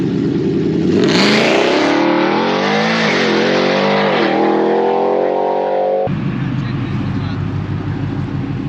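A 1,000-horsepower supertruck launches hard with its engine roaring and revving up through rising pitch, loud and close, before settling into a lower steady idle rumble; people talk over it.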